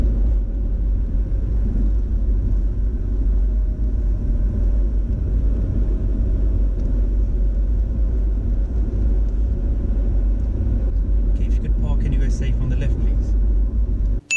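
A learner driver's own car drives steadily past parked cars during a driving test, with a continuous low rumble of engine and road noise throughout and brief faint rattles near the end.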